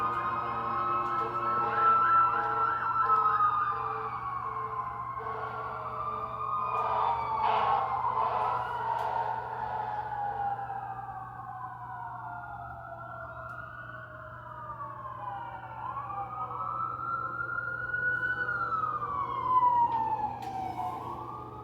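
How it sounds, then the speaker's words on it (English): Emergency vehicle sirens wail and sweep up and down as they pass at moderate distance, several overlapping tones rising and falling steadily over about twenty seconds under a low traffic hum. "I'm gonna wait for these sirens to go by."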